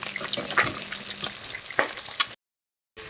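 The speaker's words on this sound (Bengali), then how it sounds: "এখানে চলছে ডিম ভাজা" Eggs and potatoes fry in a hot pan with a steady sizzle, broken by a few sharper stirring scrapes, then the sound cuts out briefly before resuming.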